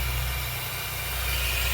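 A Mitsubishi L300 van's 4D56 diesel engine idles steadily and close by, giving an even low rumble with a rapid regular knock and no voices.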